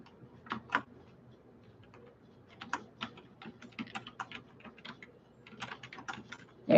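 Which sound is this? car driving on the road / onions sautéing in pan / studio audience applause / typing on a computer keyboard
typing on a computer keyboard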